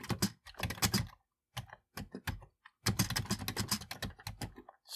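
Close, crisp typing on a computer keyboard in quick bursts separated by short pauses, entering Commodore 64 BASIC code, with no voices.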